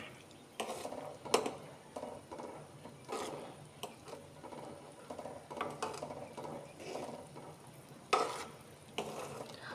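A spoon scrapes masala around a pan for onion tamarind kuzhambu, making irregular scraping and clinking strokes over a faint background sizzle. There is no talking.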